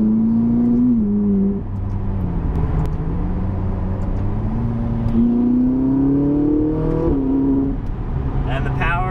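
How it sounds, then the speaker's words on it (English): A 2011 Ferrari 458 Italia's V8 with its quick-shifting 7-speed pulls hard on a test drive, its loud, close engine note climbing steadily in pitch, dropping briefly at gear changes, then rising again. "the sound that V8 makes is crazy"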